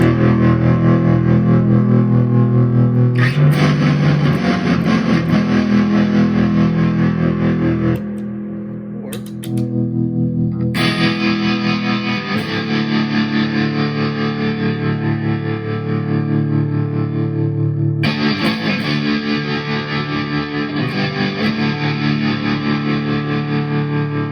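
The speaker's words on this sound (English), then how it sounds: "This sounds really good with the fuzz." Electric guitar played through an effects pedalboard with fuzz, thick distorted chords ringing loud and close, broken by a short pause before heavy strumming resumes, with no talking.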